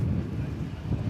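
Wind buffets a microphone on a gusty day at DFW Airport, a steady low rumble that holds for the whole moment with no other sound standing out.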